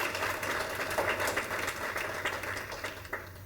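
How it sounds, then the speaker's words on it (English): Audience at an award banquet applauds with a dense, fairly faint patter of many hands clapping steadily for several seconds, with no voices over it. "We'll give them a round of applause."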